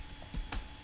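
A few light keystrokes on a computer keyboard while a code comment is typed, two or three soft clicks close by in a quiet room.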